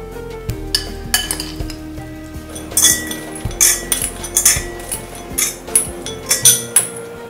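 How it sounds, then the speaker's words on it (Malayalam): Close, sharp clinks and taps against a metal bun pan come as fried nuts are dropped and spread into its base, irregular knocks in a quiet kitchen. "അതിൻ്റെ ബോട്ടമിലേക്ക് ആദ്യം നമുക്ക് കുറച്ച് ഫ്രൈ ചെയ്ത നട്ട്സ് ഒന്ന് ഇട്ട് കൊടുക്കാം."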